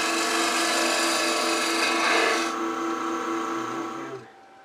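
A 3/8-inch woodturning tool, somewhat dull, cuts a cove into a wooden goblet spinning on a lathe, a steady close scraping hiss that holds for several seconds, then fades and stops.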